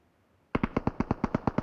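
Gunfire in a battle royale shooter, a sudden rapid burst of about ten evenly spaced, loud, sharp shots after a quiet start, with no talking over them.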